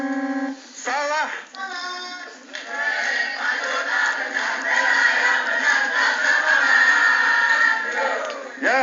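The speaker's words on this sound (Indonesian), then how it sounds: "Ya, tepuk tangan." A crowd of students cheers and claps at a school quiz competition round, with a few voices at the start before a sustained, loud mix of clapping and shouting builds and holds.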